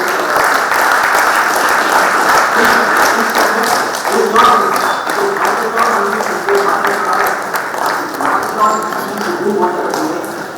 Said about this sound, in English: first let us give them a huge round of applause